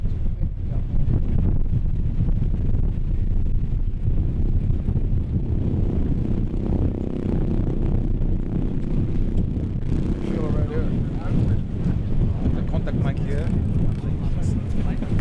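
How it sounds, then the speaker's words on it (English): Wind buffets the microphone in a constant low roar outdoors in cold, wet weather in Iceland, with someone talking underneath the rumble. "a little cold, a little windy, a little wet"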